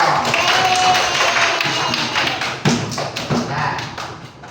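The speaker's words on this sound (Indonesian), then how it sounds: "Oke, tepuk tangan dulu." A third-grade class in an Indonesian primary school claps hands together, sharp taps and thuds close by with some talking around them, the claps growing more distinct toward the end.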